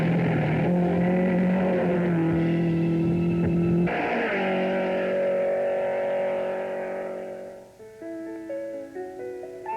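Rally cars on the Safari Rally, including a Datsun 160J and a Datsun Silvia, rushing by at night on dusty roads near Lake Victoria: engines roar loud and close, the note shifting as they pass, then fading away.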